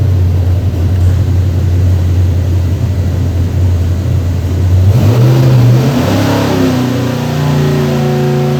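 A 509ci big block engine runs on a dyno, first a loud steady low drone, then revving up hard in a rising, roaring pull.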